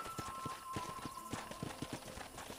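Horse hooves clip-clopping at a steady walking rhythm in the Red Dead Redemption video game, with soft ambient game sound beneath and no talking.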